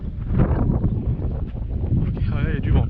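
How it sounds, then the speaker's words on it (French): Wind buffets a microphone on a hike near the Yaté river mouth in New Caledonia, a loud, continuous low rumble with gusty surges throughout. "Ok, ouais, il y a du vent."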